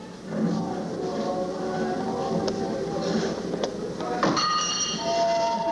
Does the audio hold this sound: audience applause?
no